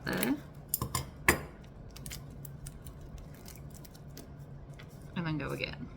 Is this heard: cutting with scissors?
yes